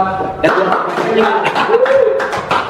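Hands clapping in a talk show setting, several sharp claps and taps mixed with close speech and light chuckling throughout.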